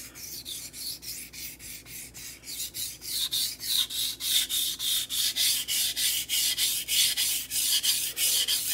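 A knife blade scraped steadily across a sharpening stone in long, rhythmic strokes, roughly three per second, each a bright gritty rasp that grows louder and more even as it goes on, with no voices.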